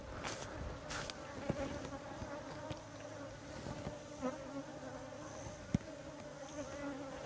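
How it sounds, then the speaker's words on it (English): A dense, continuous buzz of many bees swarming close by, with occasional louder passes and faint rustling underneath. "you can see all the bees swarming around"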